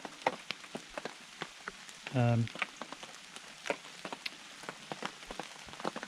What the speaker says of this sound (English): I was going to take a nap and enjoy the rain sound on the tent and let the rain pass.